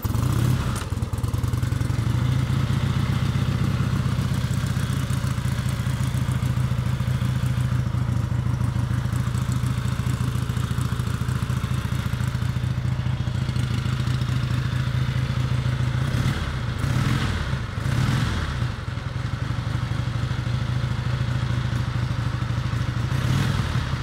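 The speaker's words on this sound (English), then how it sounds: "We're going to choke it a couple times and hope she'll fire." A one-off Harley-Davidson motorcycle engine with light flywheels, primed and choked, fires and runs loudly and steadily close by. It holds a deep chugging idle throughout, with a few clattering bumps partway in and no speech.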